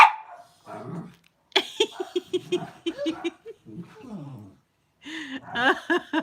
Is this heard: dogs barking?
yes